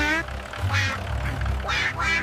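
A cartoon duck quacks several times in loud bursts over a busy musical background.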